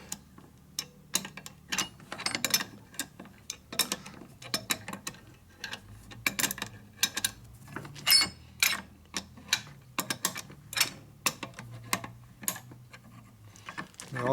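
A tool pries a worn bearing roller cage off, producing close, irregular metallic clicks, ticks and scrapes in quick clusters, fairly quiet overall and with no speech.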